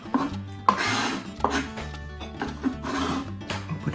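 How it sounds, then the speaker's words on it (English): A knife chops food on a board for a prawn salad with homemade dressing, producing a run of close, distinct chopping knocks over a short stretch. "And then we're gonna chop them."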